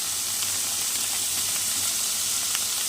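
Chillies fry for pasta in a pan with a dense, even sizzle and hiss, steady and close throughout, with soft scrapes of stirring beneath it.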